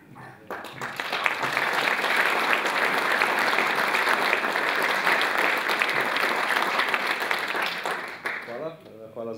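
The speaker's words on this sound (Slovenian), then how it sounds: "Hvala za aplavz." An audience at a municipal holiday ceremony gives sustained applause, a dense, loud wash of clapping that builds quickly and tapers off near the end, with a voice briefly audible as it fades.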